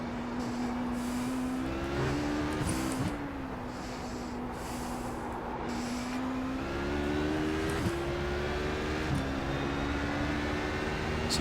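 In iRacing at Sebring, a race car engine drones steadily, with its pitch rising and dropping through gear changes and throttle lifts as the car laps the circuit.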